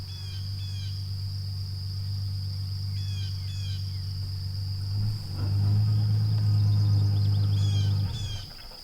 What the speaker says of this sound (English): we're around the hives. We don't want the bees to get too excited.